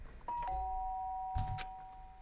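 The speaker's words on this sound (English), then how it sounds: "the sound of the doorbell forced its way into my room" A doorbell rings in the video game Danganronpa Trigger Happy Havoc, two clear chime tones sounding one after the other, close and bright, followed by a soft thump.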